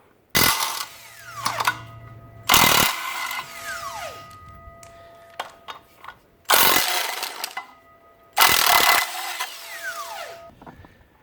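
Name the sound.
power tool removing engine flex plate bolts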